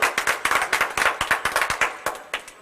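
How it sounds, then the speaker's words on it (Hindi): Hands clap steadily in a quick, loud, close rhythm with no voices over it, applause for a young girl at a stage play. "एक बार जोरदार तालियां"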